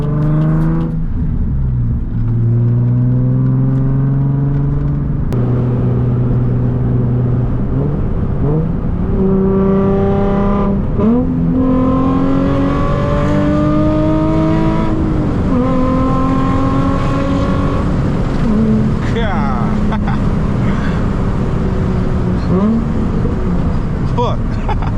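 A Nissan 350Z HR engine revs hard toward about 7,000 RPM, loud and close from inside the car, its pitch climbing through several long pulls with brief drops at shifts, while someone talks over it.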